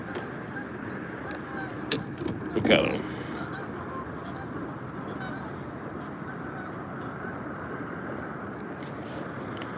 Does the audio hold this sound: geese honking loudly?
yes